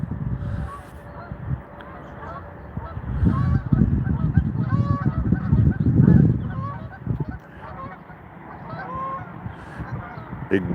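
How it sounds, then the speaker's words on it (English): A flock of geese honks repeatedly on a morning outdoors, overlapping calls rising and falling over a busy background, fairly close and steady throughout. "The geese are making some noise this morning."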